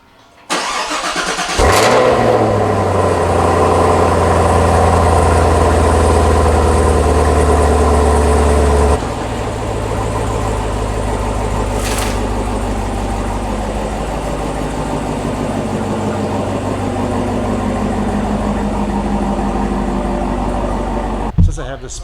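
A Chevrolet Camaro ZL1 engine fires up with a loud burst, settles into a steady deep idle, then drops to a lower, smoother idle partway through. A short sharp noise cuts in near the end.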